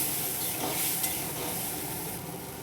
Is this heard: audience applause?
no